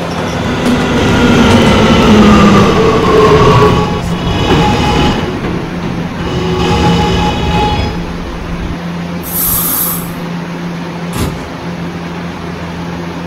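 Subway train ride in a Roblox video game, a loud rumbling run of the train with wheel squeal and clattering rails that fades to a quieter hum near the end, with a brief high tone.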